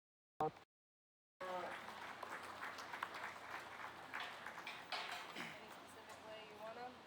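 Spectators at a county beef show clap for young exhibitors showing steers; after a short cutoff, a moderate, steady patter of applause rises in the arena with a voice speaking over it.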